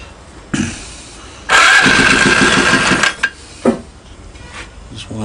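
An engine set up with late intake valve closing, running at controlled idle: a loud burst of uneven, lumpy firing pulses for about a second and a half, then a few isolated sharp knocks and quieter mechanical clatter.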